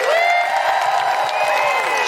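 Live audience applause and cheering for comedian Alison Spittle at the Lowry in Salford, a dense, steady wash of clapping and crowd noise that fills the whole moment without a break.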